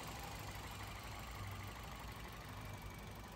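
A 2010 Toyota Vios E sedan engine idles with its air conditioning running, giving a steady, even low hum and rumble that stays level throughout with no talking.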